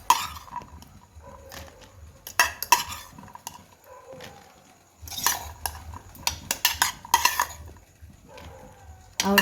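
Corn chaat topped with onion and fine sev is served as spoons and utensils clink and scrape against dishes. The clatters are close, irregular and repeated, with bursts of metallic chinks over a low background hum.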